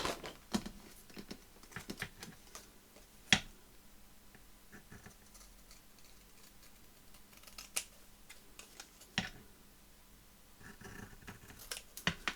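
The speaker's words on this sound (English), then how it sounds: "I'm just going to cut this out, leaving a little margin around it." Scissors cutting a paper tag out with a small margin around it, sparse soft snips and paper rustles at irregular intervals, close and quiet, with no talking.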